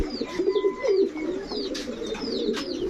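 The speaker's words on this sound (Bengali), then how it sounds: "এখন দেখাবো এক জোড়া গিয়াসুল্লি কবুতর" Giasulli pigeons coo in a low, rolling, continuous murmur, close and fairly loud, with faint higher chirps scattered above; no one talks.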